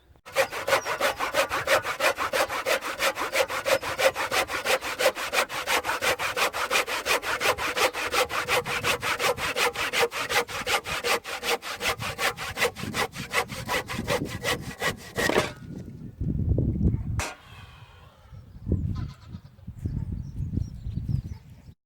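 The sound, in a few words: handsaw cutting thick wooden posts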